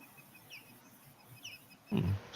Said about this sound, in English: Somebody's got some pretty bird sounds in the background.